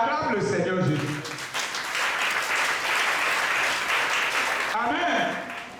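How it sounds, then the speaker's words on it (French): A church congregation bursts into loud, sustained applause that swells and holds for several seconds, with a voice speaking just before it and again as it fades. "on acclame le Seigneur Jésus"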